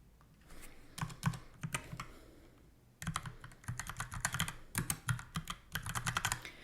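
Fingers typing on a computer keyboard, bursts of quick clicking keystrokes, a short pause, then a denser run of taps, close and clear with no talk.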